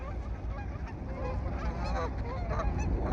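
Ducks honk and call repeatedly in the distance, a noisy outdoor flock at a beach with overlapping cries over a low rumble.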